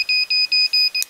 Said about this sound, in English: the beeping just keeps going